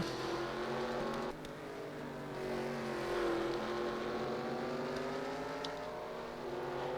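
Race cars lapping at the 24 Hours of Sebring endurance race, a steady faint engine drone with shifting pitch as cars run close together, continuous with no talk.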